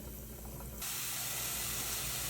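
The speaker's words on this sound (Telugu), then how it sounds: "నూనెని వేడి చేసి మెంతులు, ఆవాలు, జీలకర్ర వేసి వేయించండి" Fenugreek, mustard and cumin seeds frying in hot oil, a soft hiss that jumps into a loud, continuous broadband sizzle partway through and holds steady, close up with no voices.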